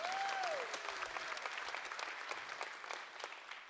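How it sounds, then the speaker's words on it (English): A conference audience breaks into steady applause, dense clapping that fades gradually toward the end, with a brief sliding tone at the start. "You should give them all a round of applause, by the way"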